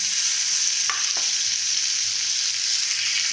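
Tomatoes drop into a hot pan of frying aromatics for a simple tomato gravy, setting off a loud, steady sizzle with a couple of brief clatters early on, close up and without speech.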